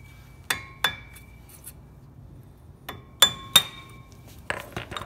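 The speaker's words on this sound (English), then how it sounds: "take a flat blade screwdriver and a hammer and hit the back edge here" Sharp metallic taps of a hammer striking a flat blade screwdriver to pop the cap off the front hub of a 2011+ Ford F-250/F-350, about seven clinking hits in two bursts, close and clear.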